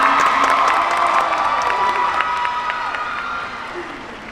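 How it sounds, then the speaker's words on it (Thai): An awards-night crowd applauds and cheers for a mother receiving a family-of-the-year award: dense clapping mixed with whoops and shouts, a sustained tone running under it, fading slightly toward the end. "ขอทุกคนปรบมือให้กับคุณแม่ด้วยนะคะ"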